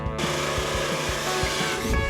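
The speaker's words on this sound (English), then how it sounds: "Now I've got to drill a hole for the vent that's going to run to the back." A power drill bores a hole through a custom center console. The loud, close, steady whine runs for about two seconds, with a rhythmic low knocking underneath as the bit cuts.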